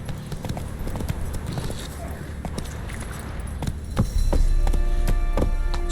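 Roach the horse galloping in The Witcher 3, a steady run of hoofbeats clip-clopping close by, with a low hum underneath that thickens toward the end.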